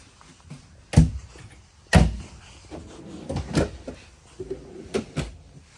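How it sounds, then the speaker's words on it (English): Soft-close drawers and cupboards shut one after another in the kitchen of a 2024 Renegade Veracruz 30VRM RV, giving a series of muffled thumps and light knocks at an irregular pace, close by. "All soft closed drawers as well."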